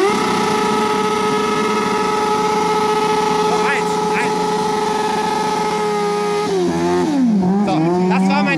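A Kawasaki ZX6R Ninja sportbike at a drag strip, its high-revving engine droning steadily at high pitch before the revs sweep down and surge through gear changes, loud and close while voices talk over it.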